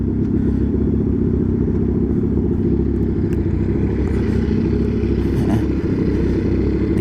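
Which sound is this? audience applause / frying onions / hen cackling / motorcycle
motorcycle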